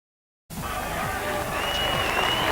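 A crowd at the All-Ireland Intermediate hurling final replay in Thurles between Cork and Kilkenny breaks into sustained applause and cheering after a half-second of silence, loud and continuous to the end.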